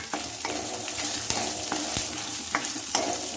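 Ingredients for kothavarangai kootu sizzle in a pan, a soft, steady hiss broken by repeated sharp scrapes and taps as a spoon stirs them, with no talking.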